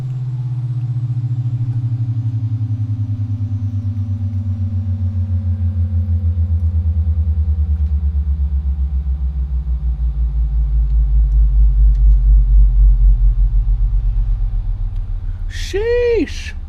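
An Aerosoft CRJ jet engine in a flight simulator rumbles loudly while its whine glides steadily downward, ending with a short bright chirp near the close.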